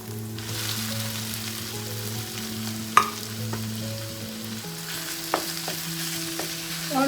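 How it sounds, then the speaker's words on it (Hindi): Minced meat frying in a pan with sautéed onions gives a steady, close sizzle, with sharp clinks of a utensil against the pan near the three- and five-second marks and no voices. "और इसको कलर चेंज होने तक फ्राई करेंगे।"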